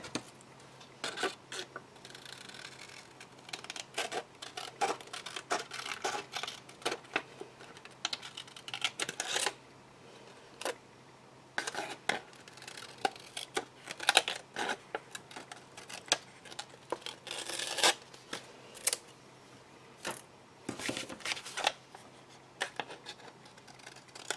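Scissors snip through paper in quick irregular cuts while trimming a handmade envelope journal, close-up and crisp, with short pauses between strokes and no voices.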